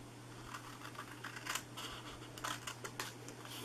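Scissors cutting paper for a no-glue papercraft box, a series of soft, close snips and crisp slicing strokes over a steady low hum.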